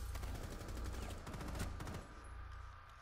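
Gunfire in Rainbow Six Siege ending in a headshot, a dense run of sharp shots and bursts over about two seconds, loud and close, followed by quieter game ambience.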